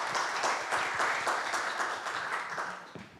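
An audience at a founding ceremony of a Korean academic society applauds with steady, dense clapping at moderate volume that fades toward the end.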